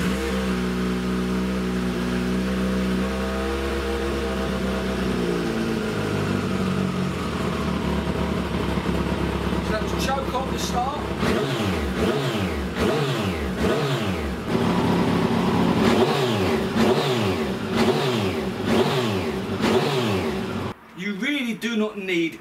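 A Kawasaki ZZR1400 motorcycle fitted with Blackwidow exhaust silencers idles loudly and then revs repeatedly in rising and falling bursts, close up, with a burbling exhaust note and a brief cut near the end.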